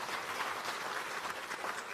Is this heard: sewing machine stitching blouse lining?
no